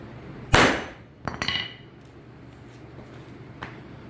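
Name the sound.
2.5 pound hammer striking coated glass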